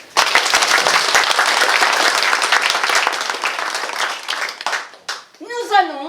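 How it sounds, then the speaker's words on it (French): A theatre audience at an amateur neighbourhood play bursts into dense, sustained clapping for about five seconds, then the applause thins out and a voice speaks near the end. "Applaudissements pour la rue de la Comète"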